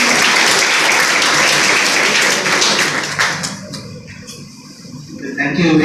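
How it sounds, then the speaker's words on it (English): Audience applause at an Engineer's Day function, loud and sustained for about three seconds before thinning out into scattered claps, with a voice beginning to speak near the end. "A big round of applause to sir."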